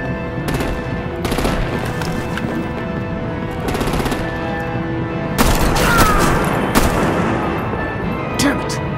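Heavy gunfire and artillery during a battle in Batman: The Enemy Within, the Telltale game: sustained machine-gun bursts and booming blasts, loud and dense, mixed with voices and action sounds throughout.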